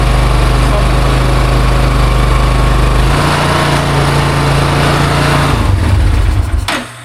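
A small Yamaha Terra Pro ATV engine idles loudly and steadily up close, its pitch shifting slightly midway before it revs down and cuts off near the end.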